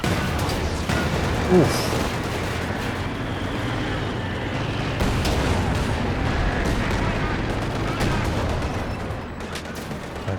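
Battlefield din from Company of Heroes 2, a 2v2 match with US and Soviet forces against OKW, where machine gun fire mixes into a dense wash of artillery booms and gunfire, steady and loud throughout, with a commentator talking over it.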